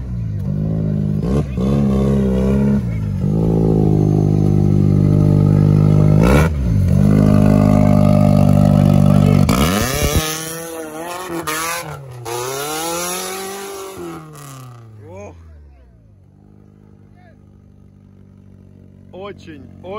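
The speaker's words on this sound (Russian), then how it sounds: "Очень-очень злой УАЗ." A UAZ off-road vehicle at a trophy sprint revs hard and loud, its engine note rising and falling through sweeping surges, then fading and thinning toward the end, with someone talking over parts of it.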